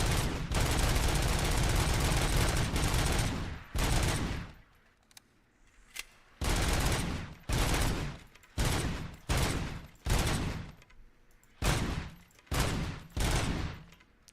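Rapid pistol gunfire in a RoboCop video game, loud sustained volleys in long bursts broken by short pauses, then a steady run of separate close shots with no talking.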